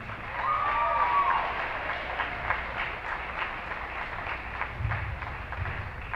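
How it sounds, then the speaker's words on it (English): Crowd applauding seniors at a boys' basketball game between Stanley County and Wall in a school gym, steady loud clapping that continues for several seconds with some cheering. "One more round of applause for our girls."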